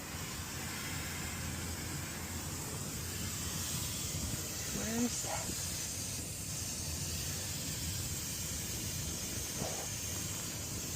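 Refrigerant hissing from a leak in an old Carrier packaged air-conditioning unit charged with trace gas, a steady broadband hiss running throughout with a brief voice partway through.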